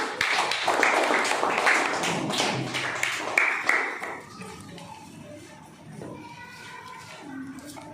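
Children clap for a contestant in a kids' quiz game modelled on Kaun Banega Crorepati: a dense burst of claps that fades after about four seconds into quieter room noise with faint voices.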